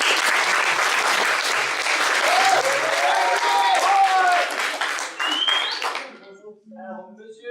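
An audience at an improvisation theatre match applauds loudly for the second guest. The dense clapping carries for about six seconds with voices and whoops mixed in, then fades out as a speaker begins talking.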